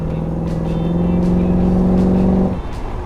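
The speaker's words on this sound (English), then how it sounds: "That snarling little small block Chevy V8." A small-block Chevy V8 hot rod engine idles with a deep, steady rumble close by, then drops off abruptly near the end.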